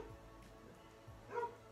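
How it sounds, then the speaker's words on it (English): A pet dog barks once or twice in a home, faint and somewhat distant, with a brief louder yelp near the end and otherwise quiet room tone. "Sorry, my dog is barking."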